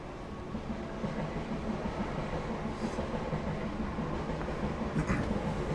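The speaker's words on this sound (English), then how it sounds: "Damn this fucking trains." A train passes in the video game The Wolf Among Us, a steady, fairly loud rolling rumble with faint clatter that holds throughout without letting up.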